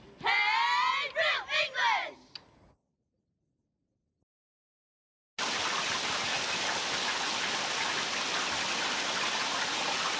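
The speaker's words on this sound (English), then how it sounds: "It's raining." A voice speaks briefly, then silence, followed by a steady, even hiss of falling rain.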